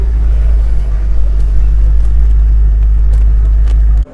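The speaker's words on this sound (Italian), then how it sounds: "il modello, il motore, il rombo, e qui potenza pura" Deep, steady engine rumble from a 300-horsepower car, loud and close, holding a constant low drone for about four seconds before cutting off abruptly at the end.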